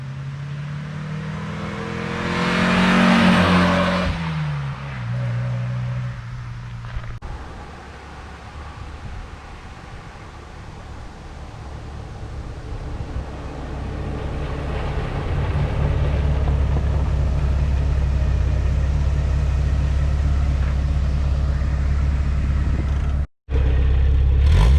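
A 1984 Porsche 944 approaches and roars past, its engine swelling loud for a few seconds, then fading into a steady low rumble and road noise.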